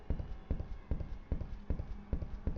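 Steady, rhythmic thudding footsteps from the game Shadows of the Werewolf, evenly paced at a walking tempo, hollow and slightly muffled.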